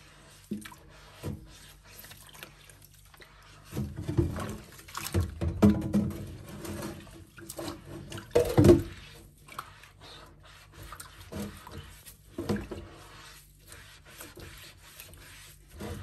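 A wet sponge scrubs a Römertopf clay pot with water, producing soft, uneven rubbing and rasping strokes in short bursts separated by quiet pauses, close and fairly faint.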